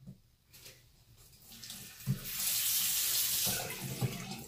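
Water runs from a tap into a sink, a steady hiss that swells louder midway, with a few faint knocks and clatters.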